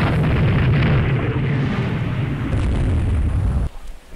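Shell hits exploding against a warship in the naval strategy game Rule the Waves 2, a loud sustained rumbling blast that rolls on for several seconds before cutting off abruptly.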